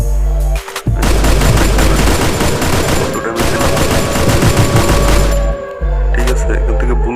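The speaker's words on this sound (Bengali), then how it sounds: "আর এখান থেকে এনিমিকে গুলি করলে এনিমি কখনো মরবে না" Rapid gunfire bursts in the mobile battle game Free Fire, loud and dense volleys of shots with brief pauses between them, close in the foreground and dominating the sound.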